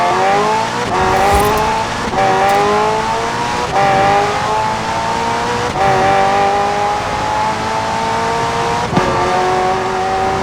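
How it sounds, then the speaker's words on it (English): A McLaren hybrid twin-turbo V8 racing in Forza Horizon 4, loud and continuous, revving up through repeated gear shifts with a rising whine that drops at each change, plus a brief tire squeal. "The car's blistering performance is delivered by a twin-turbo V8, supplemented by a McLaren ECU electric motor and instant power assist system"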